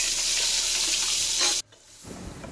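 Ginger garlic paste frying in coconut oil in a pan used for prawns, a loud steady sizzle that cuts off abruptly, then a quieter stirring crackle returns.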